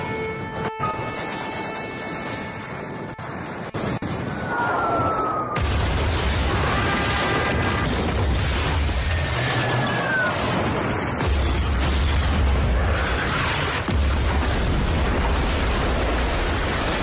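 Heavy First World War artillery fire: a sustained roar of crashing, rumbling blasts and deep booms, loud and dense, with occasional whistling tones sliding over the din.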